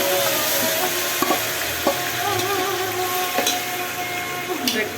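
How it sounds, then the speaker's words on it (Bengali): Marinated meat sizzles in a pot over fried onions for biryani, a continuous close hiss broken by a few sharp clicks and taps from a stirring utensil. "আর এখন আমি মাংসটা দিয়ে দিচ্ছি।"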